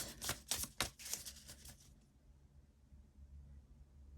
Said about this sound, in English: Just gonna shuffle these